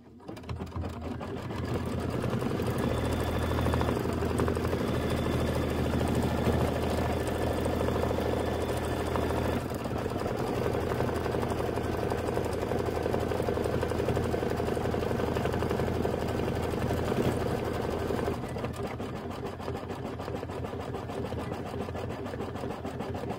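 An embroidery machine stitches the roof of a house block for an autumn quilt, running continuously with a dense, busy mechanical hum close by throughout.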